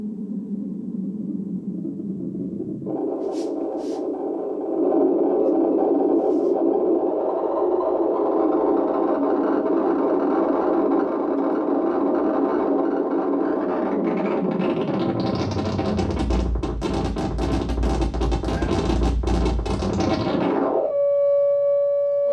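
A synthesizer tone built on a modulated sine wave drones steadily, then thickens and brightens with a wider, noisier spread before cutting abruptly to a thin pure tone, loud and alone.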